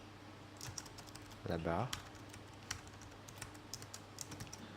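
Keystrokes on a computer keyboard while entering Swift code in Xcode, a steady scatter of light taps through the clip with a brief burst of speech in the middle.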